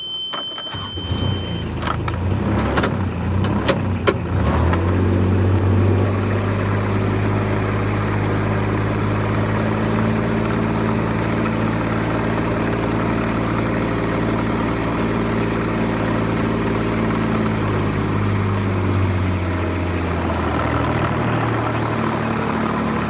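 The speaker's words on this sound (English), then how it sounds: "There's a bus here." Large bus idling nearby, a steady low engine rumble with harmonic drone holding for about twenty seconds, preceded by a few brief clatters and knocks at the start.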